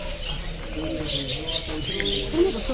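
Pigeons or doves coo with scattered chirps from other birds in a resort garden, moderately near, over a light hum of background noise.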